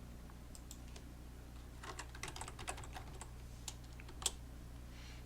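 A nickname is typed on a computer keyboard in a quiet room, heard as a quick run of light, close key clicks at an uneven pace, ending with one sharper keystroke.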